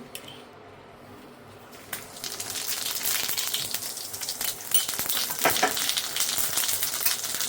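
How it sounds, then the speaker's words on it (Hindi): Cumin seeds hit hot oil and break into a loud, steady sizzle with crackling pops, starting after a quiet moment and continuing close by. "ये देखिए तेल हो चुका है। मैं इसमें डालूंगी सबसे पहले जीरा।"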